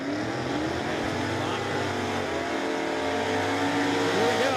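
Drag racing cars at Cordova Dragway, including an Oldsmobile Cutlass and a Camaro, give a sustained, loud engine drone that holds steady over several seconds as the cars run down the strip.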